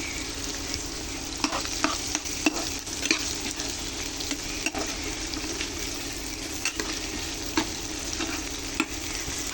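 Chewa fish fries in hot oil with a steady, dense sizzle and crackle that runs the whole time. Occasional sharp pops and spatula taps break through, close and even, with no talk.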